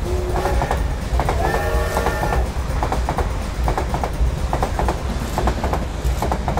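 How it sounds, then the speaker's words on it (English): A small LEGO toy freight train rumbles along its track with rhythmic clicking, a brief tooting whistle near the start, continuous and close. "Attention, freight train departing platform 1."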